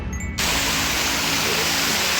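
Rainwater pours near a dam in the Konkan monsoon, a steady dense rushing roar that swells suddenly after a quieter start and then stays loud and continuous, with no speech.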